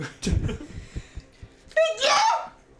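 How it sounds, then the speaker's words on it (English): A single sharp sneeze bursts out near the end during a tabletop Dungeons and Dragons game session, following scattered voices and laughter around the table. "I sneezed and deafened the old table"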